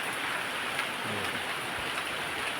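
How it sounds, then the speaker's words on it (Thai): Steady, dense rainfall pattering continuously on surfaces, a constant wash of sound with a faint low rumble underneath. "ลมฝนตก"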